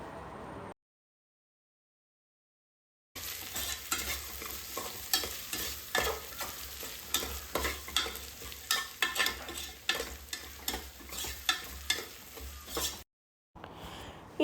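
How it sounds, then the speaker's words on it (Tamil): Ginger and garlic sauté in a pan for tomato rice, a soft continuous sizzle broken by repeated scraping stirs of a spoon, with a silent gap before and a brief break near the end. "இஞ்சி பூண்டு போட்டதும் நல்லா வதக்கி விட்டுறணும்."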